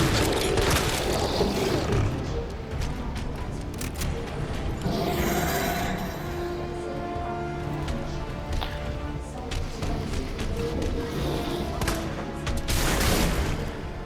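Repeated gunfire in the Resident Evil 2 Remake boss fight, Leon shooting at a creature's weak point, a dense run of loud shots with mechanical clanks and creature grunts over game noise.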